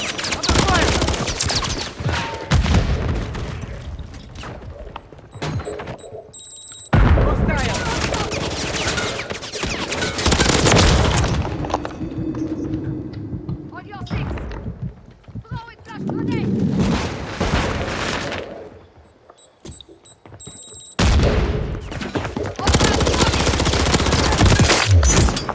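Modern Warfare 3 multiplayer gunfire: repeated loud bursts of automatic shooting and booming impacts in several waves separated by brief lulls, with a voice calling out between them.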